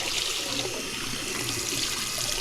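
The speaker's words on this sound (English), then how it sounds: "Red hot water" Hot water running from a household tap, a steady close hiss of flowing water with no voices.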